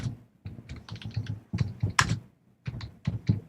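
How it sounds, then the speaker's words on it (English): Someone types on a computer keyboard during a wrestling podcast, producing quick, close clattering keystrokes in irregular bursts separated by short pauses, with no talk over them. "Who's typing?"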